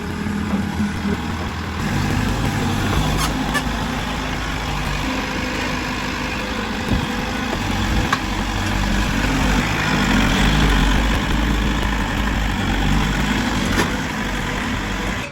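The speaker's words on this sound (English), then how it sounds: "it's now being taken away on this giant flatbed truck." Heavy diesel engine of a giant flatbed truck hauling away a digger, idling and rumbling steadily and loud throughout, a close low drone with no speech.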